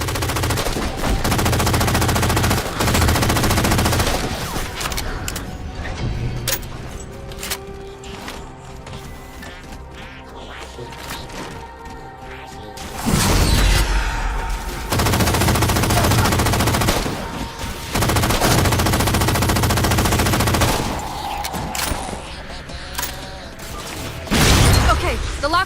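Sustained automatic gunfire from Halo 4 rattles in long, loud bursts with brief lulls, mixed with explosions and game sound effects, and voices speak between the volleys.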